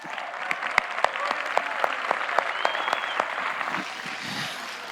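A church congregation claps during a Spanish-language service, a loose run of sharp individual claps over a busy room murmur, fading somewhat near the end.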